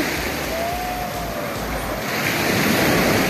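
Ocean surf washes onto a beach in Mauritius at sunset as the tide rises, a steady broad roar mixed with wind buffeting the microphone, with no clear talk.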